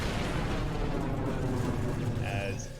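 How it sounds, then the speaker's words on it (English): A continuous broadband explosion effect rumbles at steady, loud volume throughout, with flames igniting around a pit arena in a Cyberpunk RED tabletop game, then begins to fade at the very end. "Trying to find my explosion sound."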